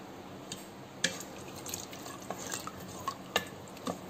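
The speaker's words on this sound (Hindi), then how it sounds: "इन सारी चीज़ों को मिक्स करेंगे अच्छी तरह से" Soft scraping and stirring of black-eyed bean curry masala in a metal pot, with a few sharper clinks of a spoon against metal at irregular intervals, fairly close.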